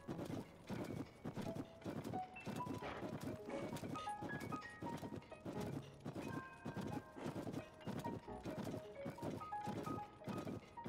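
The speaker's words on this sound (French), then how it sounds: "le bruit du cheval sur la neige" In Zelda: Tears of the Kingdom, a horse trots across snow with crisp, evenly paced hoofbeats, close and continuous, layered over light tinkling melodic game music.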